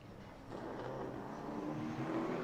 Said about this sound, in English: here comes car number 6, Brandon Lopez, coming down to the white flag